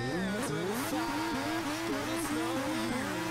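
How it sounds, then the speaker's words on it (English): A radio-controlled Honda McLaren MP4/4 model car does burnouts, its small electric motor whining up and down in rising and falling pitch sweeps, steady and close. "this will do burnouts"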